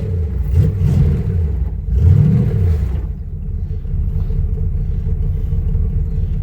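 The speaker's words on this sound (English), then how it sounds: "We're going to give this car a start and let her idle for 20 minutes." A car engine catches and revs with a brief swell of rumble, then settles into a steady low idle, close and continuous with no voices.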